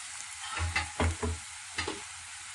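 Ginger-garlic paste sautéing in a hot pan, a soft sizzle broken by a few scraping stir strokes of a spatula, close by.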